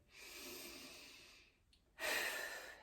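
Slow, audible breathing during a standing pregnancy pilates exercise: a long exhale, a brief pause, then a sharper, louder breath, close and without other sound.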